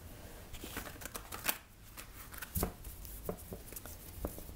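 Rapid, crisp riffling and flicking of tarot cards being shuffled, close up, in quick irregular bursts with a brief lull midway.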